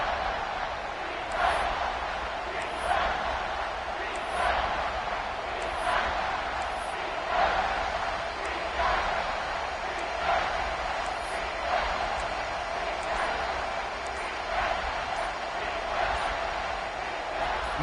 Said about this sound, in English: No fall off from the noise or intensity from this crowd as we start the fourth quarter